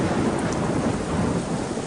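Steady rain pouring down with a low rumbling undertone, dense and constant throughout, no voices.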